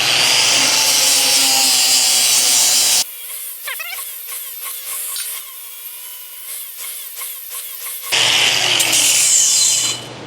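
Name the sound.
flap disc wheel deburring stainless steel pipe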